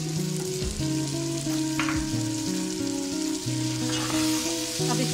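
Peas, carrots and potatoes frying for vegetable biryani, a loud steady sizzle throughout, close up, with no speech and some tonal background music underneath.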